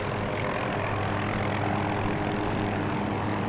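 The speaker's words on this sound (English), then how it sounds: "Oh, there's a helicopter." A helicopter in the video game Battlefield 2042, its rotor thumping steadily over a loud engine drone, constant and close throughout, with no talking.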